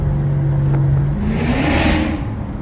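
A Lexus GS430 V8 with no catalytic converters revving hard and then downshifting: a loud, raw engine note holds steady, then its pitch swoops and climbs during the shift, heard close from inside the car with no talk.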